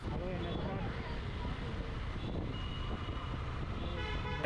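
Road traffic with car and truck horns honking, engines rumbling underneath as someone talks over the scene.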